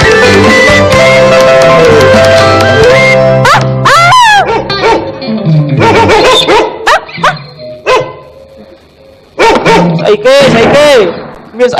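Man imitating a barking dog in a Cambodian comedy skit, with loud yapping bursts and whimpering cries between stretches of lively talk, close and forceful.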